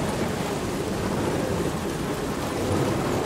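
Heavy rain pours steadily in the video game Star Wars Jedi: Fallen Order, a dense broadband hiss with a low rumble underneath, constant and loud throughout, no talking.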